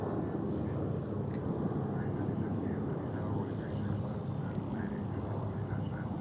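An airliner in Stand Up to Cancer special livery at DFW International Airport produces a steady, loud jet engine roar throughout, with faint higher sounds now and then.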